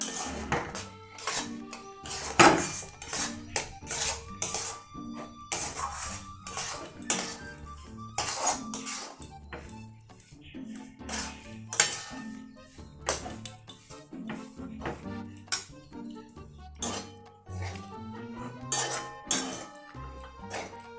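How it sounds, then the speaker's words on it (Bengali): Semolina stirred in a pan while cooking for Bengali-style gulab jamun gives repeated clinks and scrapes of a spoon against metal in an uneven rhythm, close and fairly loud, with no voices. "এরপর আমি সুজিটা দিয়ে দিচ্ছি। এটা ভালো করে মিক্স করে নেব"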